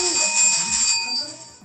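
A bell rings with sustained bright tones that fade gradually over about a second and a half, set against faint background noise during a livestream.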